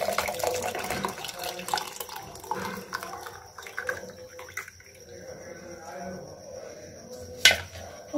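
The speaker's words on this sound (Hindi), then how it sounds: "देन इसके बाद इस पानी को आपको स्ट्रेन करना है।" Hot ginger water is strained from a pan in a kitchen, giving a continuous splashing pour with some clinks along the way and a sharp knock near the end.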